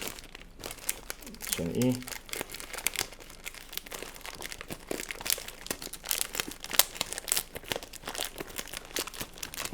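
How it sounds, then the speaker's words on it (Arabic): Crinkling and tearing of foil packaging as a Panini Adrenalyn XL Plus Premier League 2022/23 starter pack is opened, with a run of close, scratchy crackles and rustles while someone talks over the handling. "نفتح الباك دي كلها كده"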